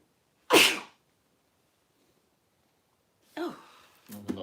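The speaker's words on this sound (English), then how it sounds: "Gonna sneeze." A single sharp sneeze bursts out, followed by a long quiet gap and then a couple of short vocal sounds.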